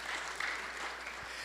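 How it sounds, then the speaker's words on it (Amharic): A church congregation claps together in praise of God, a dense, steady wash of many hands sustained throughout at moderate level with no voices standing out. "እስኪ የእግዚአብሔር በመሆናችሁ የምትደሰቱ አጨብጭቡ ለሰራዊት ጌታ ለእግዚአብሔር"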